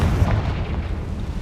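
A Confringo fire spell in Hogwarts Legacy bursts with a heavy, rumbling boom that swells at the start and then rolls off into a low, fading blast tail.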